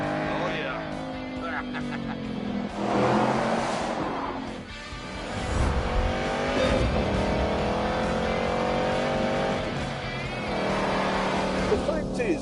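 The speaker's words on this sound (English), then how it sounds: "the engine in Hammond's car is a push-rod, two-valve iron museum piece" A muscle car's iron push-rod, two-valve engine revs hard in The Grand Tour racing game, its loud, rising and falling roar sustained throughout with brief dips between pulls.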